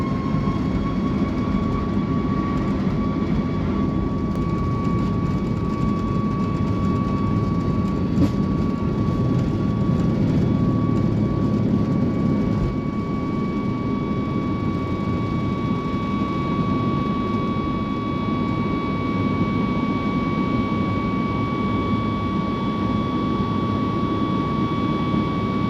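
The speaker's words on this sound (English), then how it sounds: "then we made our way for the runway for an on-time departure to Chennai" A Singapore Airlines jet taxis toward the runway for departure to Chennai, heard from inside the cabin as a steady, loud engine drone and airflow with a constant whining tone, unbroken and with no talk.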